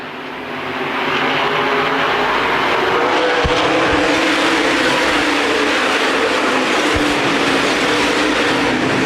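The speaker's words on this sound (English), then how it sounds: "Nestor pushing Carroll down the backstretch." Modified race cars roar around Winchester Speedway in a dense, continuous pack, engines droning loud and steady with a few low thumps, no talking.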